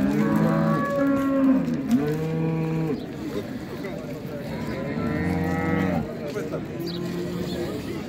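A cow that has recently calved moos at a livestock market in several long, drawn-out calls. The lowing is close and loud, with a steady crowd murmur behind it.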